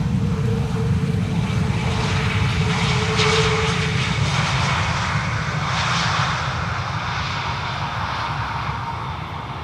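Lufthansa airliner on arrival from Frankfurt at Schiphol's Polderbaan runway, a loud steady engine roar with broadband rumble that holds through the whole stretch and eases slightly toward the end.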